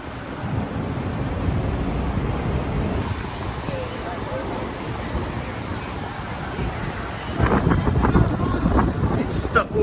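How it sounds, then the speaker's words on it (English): Strong wind buffets the microphone on a New York City street before rain, a loud rushing roar with gusts swelling near the end, with voices present. "It's currently so windy."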